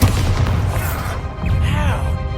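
Bombarda spell explosions in Hogwarts Legacy: heavy low booms rolling continuously, with a second blast swelling midway, loud and close.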